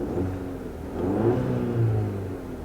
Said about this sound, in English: So if I were to rev it, let's see.